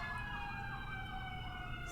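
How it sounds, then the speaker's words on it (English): A long, steady emergency siren sustains a continuous tonal wail throughout, sounding at a moderate distance over low background rumble with no break. "It's like the longest siren of all"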